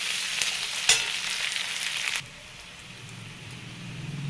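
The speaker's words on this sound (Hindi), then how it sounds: "आलू को भी थोड़ी देर फ्राई कर लेती हूँ।" Potatoes fry in a pan with sweet potato leaves, giving a dense, close sizzle with a spatula knock early on. Partway through, the hiss drops off sharply, leaving a much quieter low simmer.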